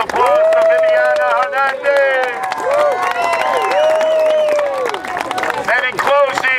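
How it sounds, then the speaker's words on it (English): A crowd at an outdoor political rally in Bay Ridge, New York City, claps and cheers loudly and continuously, with voices and whoops mixed into the applause. "Let's have a great round of applause for Viviana"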